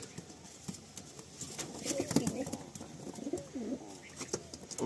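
Madrasi and lakka pigeons coo softly inside a loft, with repeated low, throaty calls overlapping at close range amid quiet background noise.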